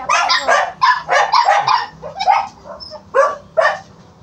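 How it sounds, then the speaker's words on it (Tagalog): Several dogs bark in quick, loud bursts at close range after finding food, with sharp yips and whimpers between repeated barks. "Ay, nakakita ng pagkain yung mga aso eh."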